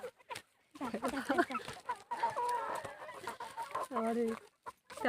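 Kadaknath chickens cluck and squawk close by in agitated bursts, mixed with excited shouting voices as people try to catch a bird.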